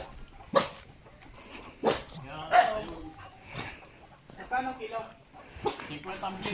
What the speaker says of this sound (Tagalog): Ang lalaki ng mga aso nagbabantay.